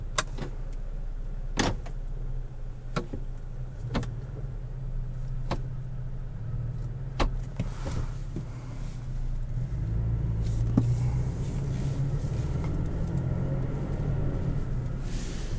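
A 2018 Toyota Tacoma TRD Sport with a 3.5 V6 drives with ECT power mode engaged: a low cabin engine rumble with regular sharp clicks early on, and the drone grows louder partway through.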